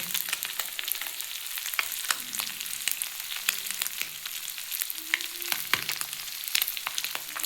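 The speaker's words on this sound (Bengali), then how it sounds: "মাছগুলো খুব ছোট ছোট তো ভাজতে ভাজতে একটু এ হয়ে যাচ্ছে" Very small fish fry in a pan with a steady, dense crackle and sizzle. Faint scattered pops and soft clinks sit on top, with no voices.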